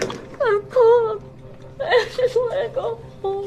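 A person cries in a series of whimpering, wavering sobs that rise and fall in pitch, close and fairly loud, with short pauses between bursts and a steady low hum underneath.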